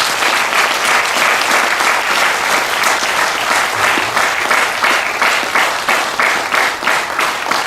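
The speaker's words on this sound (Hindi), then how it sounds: "उन सारे पिरामिड मास्टर्स को हम तालियां बजाएंगे।" Loud, dense applause from an audience at a spiritual talk, many hands clapping steadily and evenly for several seconds with no talking over it.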